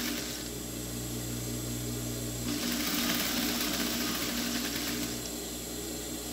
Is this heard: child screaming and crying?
no